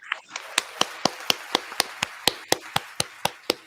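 Hand claps in a podcast setting: about a dozen sharp, close claps in a steady, slightly quickening rhythm, each one crisp and distinct against near silence.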